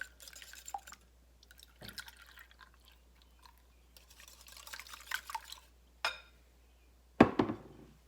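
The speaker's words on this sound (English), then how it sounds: "And now we're going to add 1/4 of a cup of melted butter, 1½ cups of milk," Melted butter and milk are poured into cinnamon roll cake batter, giving quiet liquid splashes and drips in scattered bursts, with a sharper splash near the end.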